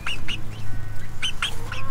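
Chickens chirp and cluck close by, a flurry of short high calls over a low background rumble.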